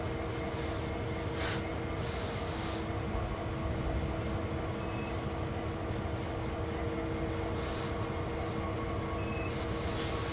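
A simulated train in Train Sim World 2 rolls to a stop with a constant loud rumble, a low drone and intermittent brake hiss bursts, no voices heard.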